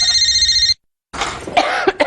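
A telephone-like electronic ringing breaks off into a short silence, then a close, harsh cough with throat clearing.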